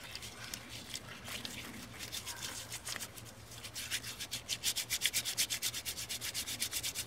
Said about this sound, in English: Mash it up really good.